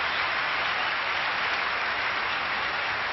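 A crowd applauds at a 1985 All England Open badminton match during a decisive third game, a steady, even wash of clapping that holds from start to finish without speech.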